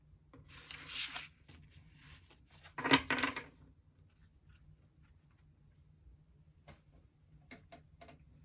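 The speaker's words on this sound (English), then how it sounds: "I will pull out 4 cards that you can choose from" Tarot cards from a spell casting deck slide and rub against each other in two brief bursts near the start, then a few light ticks and taps follow in an otherwise quiet room with no talking.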